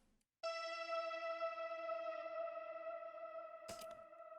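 Atmosphere hit from electronic future rave production: a sustained, bright, buzzing synth tone with many harmonics that enters abruptly after a brief pause, rings steadily with effects and echo, and is cut by a short noisy burst near the end.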